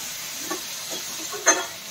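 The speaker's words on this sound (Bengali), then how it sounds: "আর আমরা এটা ভাজা করছি কারণ কুমড়ো দিয়ে করছি।" Pomfret fish frying in a pan for a pumpkin and pomfret curry makes a faint, steady hiss, broken by a few soft scraping stirs, the last one slightly louder.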